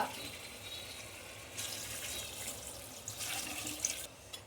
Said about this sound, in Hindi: गरम पानी हमने डाला है।